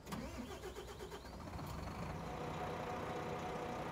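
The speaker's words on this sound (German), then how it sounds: "Motor an." Coach bus diesel engine in Euro Truck Simulator 2 cranking and catching, then settling into a steady low idle, moderately quiet with no talk.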